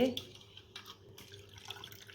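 Raw chicken pieces are rinsed under running water from a tap in a home kitchen, a soft splashing trickle with faint drips, brief and fairly quiet beneath occasional background voices.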